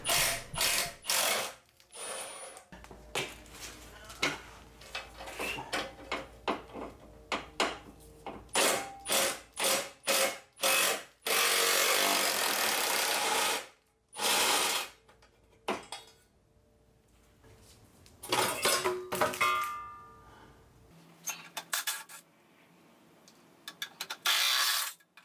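A ratchet works heat shield bolts loose under a 2008 turbo Subaru Forester, with bursts of rapid clicking interrupted by pauses and metallic clunks, close and fairly loud, with no talking.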